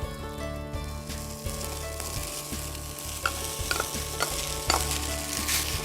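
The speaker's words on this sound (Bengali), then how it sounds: "ঘিয়ের সাথে এখন আমি সমস্ত ভেজিটেবলসগুলো ভেজে নেব" Vegetables and boiled rice fry in ghee in a pan, giving a steady, close sizzle with the scrape and clatter of stirring at intervals and no voices.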